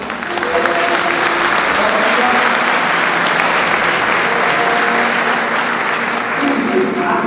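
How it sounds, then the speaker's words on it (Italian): A crowd at an Italian town band concert applauds the conductor as he comes on: thick, continuous clapping from a large audience, loud and even throughout, with faint voices murmuring beneath. "prego maestro, l'applauso"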